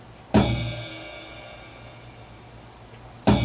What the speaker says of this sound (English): The bass drum and the ride cymbal are hit at the same time.